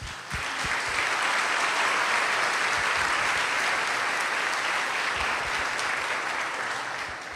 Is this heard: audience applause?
yes